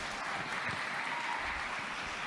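A church congregation claps in praise, a steady, even wash of applause that sounds somewhat distant and fills the whole moment without a break.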